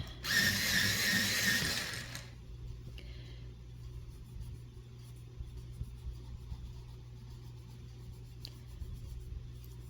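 A pencil sharpener grinds a colored pencil in a short burst of about two seconds, close and fairly loud, then gives way to a quiet room with a low background hum.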